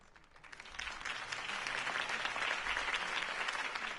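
Video game crowd applause, steady, a dense wash of clapping that swells and holds for several seconds with no talking.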